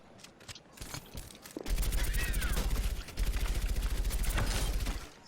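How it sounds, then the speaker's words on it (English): Sustained machine gun spam fire from Widowmaker in the video game Overwatch: loud, rapid rattling bursts that start after a short lead-in of scattered game sounds, with a brief gap midway before firing resumes. "AD spamming with your machine gun is really powerful"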